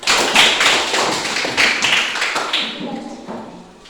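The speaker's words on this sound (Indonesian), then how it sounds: "tepuk tangan buat Tina" An elementary school class claps for a student named Tina during a teaching practice session; a short, fairly loud round of quick claps that tapers off within a few seconds.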